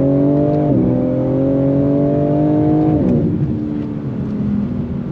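A 2022 BMW M4 Competition car engine revs up hard with rising pitch, shifts gear with a sudden drop, then climbs again, loud and close.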